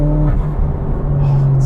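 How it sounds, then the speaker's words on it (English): Mitsubishi Evo X MR with built SST gearbox and 10-plate clutches, a brief loud engine drone with a short dip suggesting a downshift, close and steady. "if I put a few more pulls, then I will, and I'll even just go downshift."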